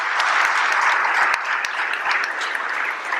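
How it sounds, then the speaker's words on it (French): An audience at a conference on building with local stone gives the speaker a burst of applause, a dense, even wash of clapping that holds steady throughout. "On peut t'applaudir, je crois"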